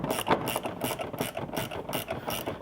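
A ratchet wrench clicking rapidly and steadily while tightening a nylon lock nut onto a shock stud of a 4WD Chevy V8 Colorado, close, loud, rhythmic repeated pawl clicks throughout.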